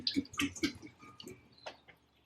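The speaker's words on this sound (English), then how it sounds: "you drain the brine out of the vegetables, just like this." Brine draining out of olives, a series of irregular splashing, gurgling pours and drips, close by and moderately quiet, trailing off toward the end.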